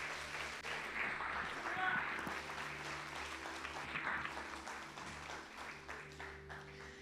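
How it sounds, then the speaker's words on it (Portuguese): A church congregation applauds steadily for several seconds, a dense wash of clapping with a low steady hum and faint voices underneath. "aplauda o Senhor com todo o seu coração"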